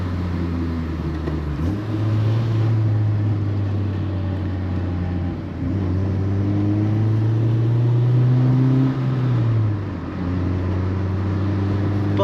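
A 7th gen Honda Civic engine idling and revving in steady drones, rising in pitch around two seconds and again near eight, loud and close with no talk.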